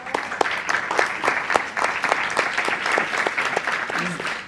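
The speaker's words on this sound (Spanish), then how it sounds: "Un gran aplauso para Andrea" Audience applause for a speaker at an evening neuroscience ideas congress in Spanish, a steady burst of many clapping hands with a few sharp nearby claps standing out, with no talk over it.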